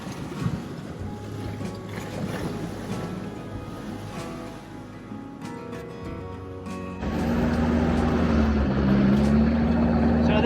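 Sherp ATV grinding through deep snow and ice, a steady low engine drone with rushing wind and crunching, growing louder and rougher in the final seconds.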